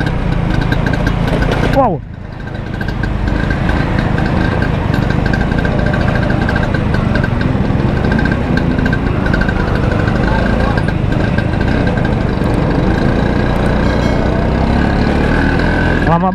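Classic Vespa scooters on a night ride, a continuous buzzing two-stroke engine drone close by with steady idle-like vibration throughout, and a person briefly exclaiming over it.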